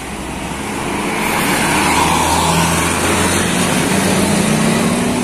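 A Mahardika tour bus passes along a road in Ciamis, its engine rumble building over the first second into a loud, sustained drone with a rising whine, continuing steadily to the end.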